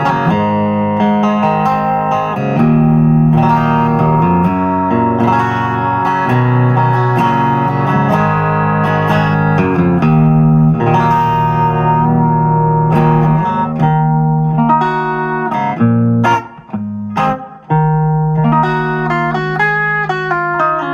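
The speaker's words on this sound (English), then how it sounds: "Got my standard 65 Vibrochamp, little bit of reverb from the Flint." An Ibanez-made Arbiter DC Junior electric guitar from the 1970s played through a 1965 Vibrochamp amp with light hall or room reverb, ringing chords and melodic lines sounding loud and continuous, with a brief pause near the end.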